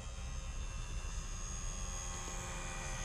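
A HobbyZone Super Cub DSM electric RC model airplane flies overhead, its motor and propeller making a continuous faint droning hum that stays level throughout, with no voices.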